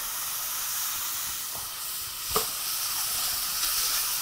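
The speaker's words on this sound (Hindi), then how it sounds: "इसके अंदर हम डालेंगे ये प्याज, इसमें जाएगी हरी मिर्च।" Onion and green chilli with cumin sizzling in hot oil for Punjabi rajma, a loud steady hiss close up with a couple of brief crackles and a stir partway through.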